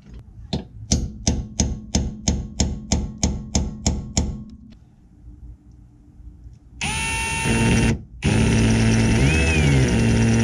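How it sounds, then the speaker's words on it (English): Hammer striking a small punch to mark metal while fitting a DDMWorks ProBeam on a Saturn Sky: about a dozen sharp, evenly spaced metallic taps, then a pause and a loud continuous power-tool whir. "First thing I'm gonna do is try to punch a mark into here."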